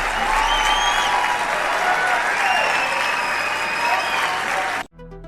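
Loud, sustained applause from an audience with some cheering mixed in, steady for several seconds before cutting off abruptly.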